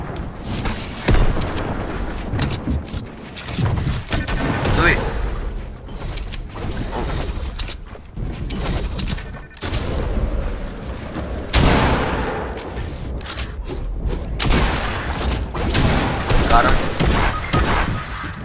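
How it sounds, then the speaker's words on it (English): Gunfire from an enemy team in Fortnite, bursts of shots and thuds scattered through dense game noise, with people talking over much of it. "I got shot by another team behind me"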